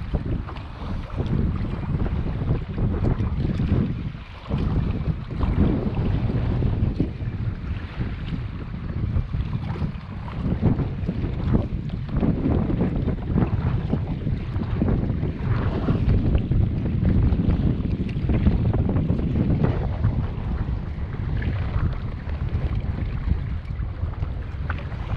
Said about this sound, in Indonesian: Tapi angin, aduh, bukan main padu lagi lah.